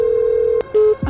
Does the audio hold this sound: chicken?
no